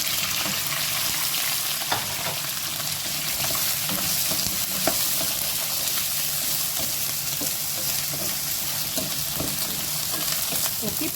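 Kalabasa squash fries in a pan with a dense, continuous close sizzle, punctuated by light scraping and clicking of stirring throughout, no voices.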